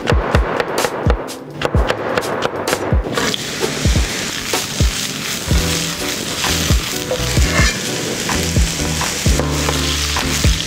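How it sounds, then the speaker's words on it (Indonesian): Lasagna filling sautéed in hot oil: a dense, continuous sizzle and frying crackle, with repeated sharp scraping and tapping of a utensil stirring against the pan in an irregular rhythm. "yang pertama kita akan tumis dulu isiannya ya"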